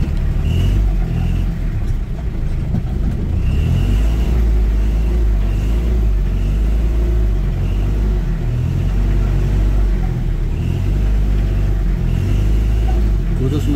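A Toyota Starlet engine fitted with a racing exhaust rumbles loudly and close at a repair workshop, with a deep, continuous exhaust drone and mild swells of revving throughout.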